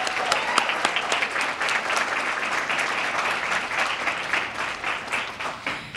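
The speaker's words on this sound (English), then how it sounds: "I'd like everyone to give them a round of applause one more time" An audience at a Rotary Club scholarship awards event applauds the student recipients, with loud, dense clapping sustained for several seconds and a few sharper claps standing out.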